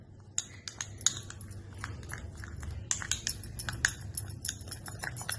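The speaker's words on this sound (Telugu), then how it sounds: "దీన్ని బాగా మిక్స్ చేసుకోవాలి" A spoon clinks against a bowl while stirring yogurt and aloe vera gel, quick irregular taps and scrapes close by, with no talk.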